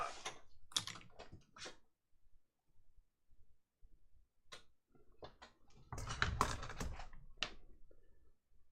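Handling and typing on an Apple wireless keyboard: scattered close clicks and taps, some quick runs of keystrokes with pauses and a louder clatter as the keyboard is moved, heard alone.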